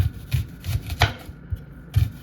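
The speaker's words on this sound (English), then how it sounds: "So I'm gonna slice my onion." An onion sliced with a knife on a cutting board, a series of about six firm, evenly spaced cuts landing close and fairly loud with no talk.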